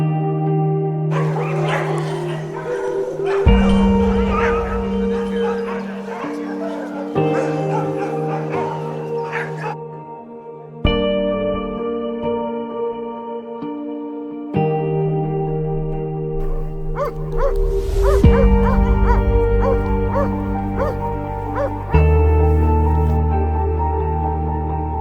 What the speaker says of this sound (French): La balade commence par une rencontre chaleureuse avec les chiens.